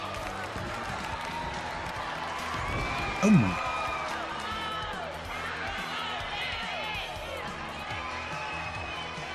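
A small wrestling crowd in a Sachs High School gym in Alabama reacts as Bambi wins, with scattered cheers and clapping that swell briefly, while a commentator talks over the noise.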